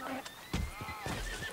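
Horse whinny followed by a brief clop of hooves from a horse in the Red Dead Redemption 2 video game, heard under a voice talking in French.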